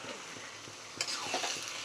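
Kochu greens cooking with a hilsa fish head in a frying pan, stirred over a soft continuous sizzle, with a few scraping strokes and a brighter clink near the middle, heard close and moderately quiet.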